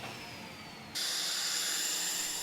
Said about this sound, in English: so I'm drilling the pocket holes in the ends of the drawers